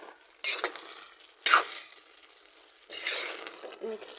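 Taro leaf curry with torn lemon leaves is stirred in a pan, giving three separate bursts of scraping and sizzling with short quiet gaps between them.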